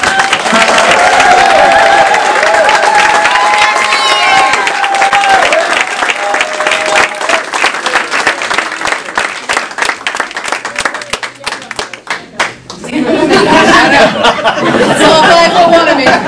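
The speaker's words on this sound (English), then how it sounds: "Can you all join in a round of applause and welcome." Audience applause welcoming a speaker to the stage at a campaign announcement event, loud and sustained clapping with cheers and crowd chatter, thinning to scattered claps before a voice speaks, then a renewed burst of applause and talk near the end.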